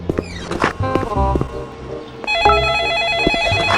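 A telephone rings inside a Roblox game set in a haunted restaurant, a looping electronic ringtone of repeated bright tones that grows louder partway through, with game clicks and thumps beneath it.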